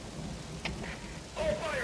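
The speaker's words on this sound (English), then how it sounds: "now you notice it's started to rain" Rain falling at the Mother Base in Metal Gear Solid V: The Phantom Pain, a soft, steady hiss of rainfall with a low rumble underneath, moderately quiet, with a brief faint tone near the end.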